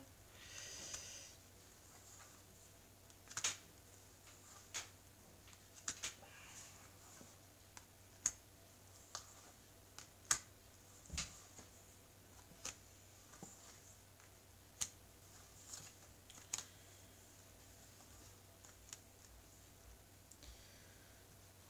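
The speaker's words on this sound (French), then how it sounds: "Alors je vais étaler les cartes." Tarot cards being spread out across a table: faint, sparse clicks and soft card taps scattered at irregular intervals over a quiet room hum, with no talking.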